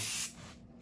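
A short, sharp burst of undercoating sprayed onto the tailgate of a 1952 PD4103 bus gives a bright hiss that cuts off abruptly, leaving a faint low hum.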